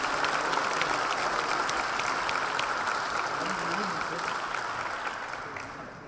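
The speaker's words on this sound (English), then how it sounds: "I hope you will join me in applauding the panel" Sustained applause from a conference audience saluting a panel on public-private partnerships and decarbonization. A dense, steady wash of clapping runs the whole clip and fades slightly toward the end.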